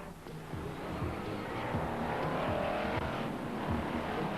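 BriSCA Formula 1 stock cars racing at Skegness in 1993, a dense, loud roar of several engines building and holding steady, with occasional tire squeal and no talk.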